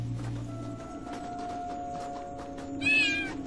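A cat gives one short, clear meow near the end, loud and close, over a steady low indoor hum and faint background noise.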